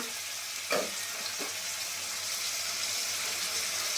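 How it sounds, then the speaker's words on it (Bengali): Ground spices sizzling with ginger and garlic in a hot pan, a dense, steady hiss close to the ear, with a couple of brief clinks or stirs early on and no talk. "জিরের গুঁড়ো, লঙ্কার গুঁড়ো, হলুদের গুঁড়ো, লঙ্কার গুঁড়ো দিয়ে আমি মশলাটাকে একটু ভালো করে কষে নিই"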